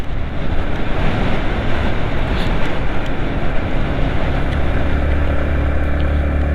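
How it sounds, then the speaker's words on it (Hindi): Strong wind roars steadily over a mountain highway in Spiti, heard from a moving car as a loud, continuous buffeting rush with low rumble and no break throughout. "हवा देखो कितनी तेज़ पड़ रही है"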